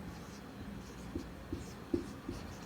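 Chalk or marker writing on a board during a lecture on Rajasthani art and culture: a few short, soft taps and scratches spaced about half a second apart, faint under a quiet room hum, with no speech.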